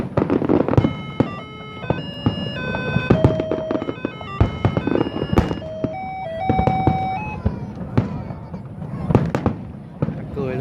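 Fireworks exploding over Saigon during the 2 September 2015 display, a dense run of sharp bangs and crackles with whistling rising tones, fairly loud and continuous, with a crowd murmuring and people talking underneath.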